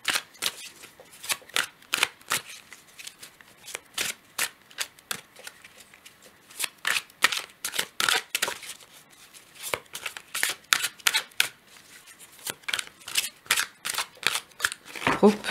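Tarot cards shuffled by hand in a steady stream of crisp riffles and flicks, close and fairly quiet, with short pauses between bursts and no talking.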